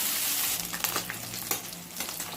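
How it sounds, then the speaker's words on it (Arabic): Animal fat from a mixed offal tray frying and sizzling in a pan, a steady close crackle with brief louder pops, no voices. "خلي الدهن ده كله يفلفل بقى"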